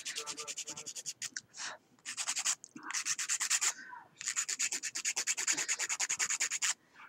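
Hand file scraping acrylic nails in quick, even back-and-forth strokes, bursts of rasping rubs with short pauses between sets, close and fairly quiet.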